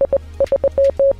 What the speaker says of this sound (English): if I wanted to send the emergency signal SOS, which sounds like this